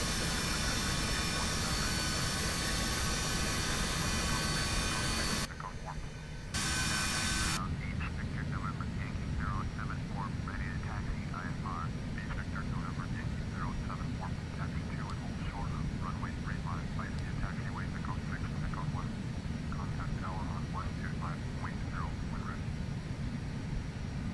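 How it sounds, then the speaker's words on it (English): An airliner in Microsoft Flight Simulator X taxis on the ground, its engines a steady, loud whine and rumble that runs throughout, briefly cutting out for about a second, with faint chirping tones over the later part. "Taxiing down, following Draco. It's a short taxi"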